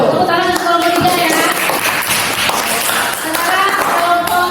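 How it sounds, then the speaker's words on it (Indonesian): Students in a classroom clap for a presenting group, scattered hand claps mixed with murmuring voices and bright tonal sounds over the top. "Tepuk tangan untuk kelompok 3 ya."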